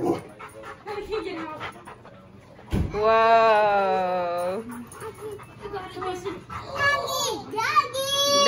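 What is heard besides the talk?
dog barking and whimpering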